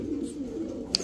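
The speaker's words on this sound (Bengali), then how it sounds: "এটা টেডি কবুতর।" A Teddy pigeon coos nearby, a low throaty murmur running through the moment, ending with a brief sharp click.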